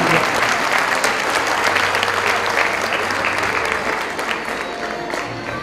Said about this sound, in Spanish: Le brindamos un aplauso a los alumnos ya licenciados